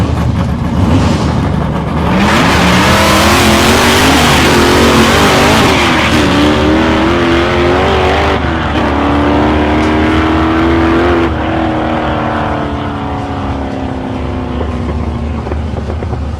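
Two drag cars launch down a quarter-mile strip: a 4-litre Ford Fairmont Turbo and a 1967–68 Mustang with a 377 cubic inch engine, engines roaring loud and close, revving up through rising gear pulls for about fourteen seconds with tyre noise.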